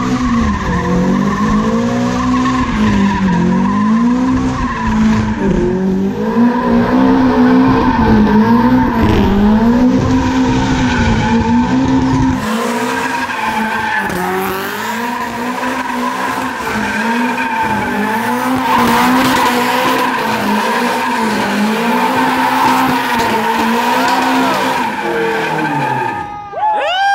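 A drifting Toyota AE86 Corolla with a 3SGE BEAMS engine roars continuously while tires squeal and skid loudly, the screech rising and falling for nearly half a minute.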